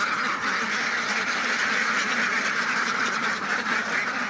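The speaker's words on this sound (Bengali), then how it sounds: "তা দেখেন হাঁসগুলো ছাড়লাম" Khaki Campbell ducks quacking in a dense flock as they are let out of a farm pen toward a pond, a steady, continuous chorus of overlapping calls close by with no talk.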